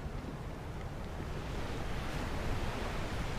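Sea waves in the video game A Plague Tale: Requiem, heard during a boat voyage as a steady, continuous wash of surf and wind with no distinct breaks, moderately quiet and with no voices.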